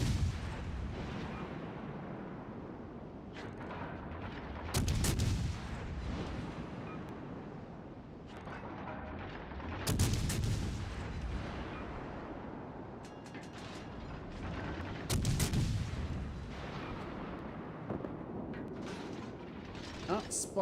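Artillery guns in a naval combat video game fire about every five seconds, each a heavy boom rolling over a steady rumbling background, with a voice talking in between.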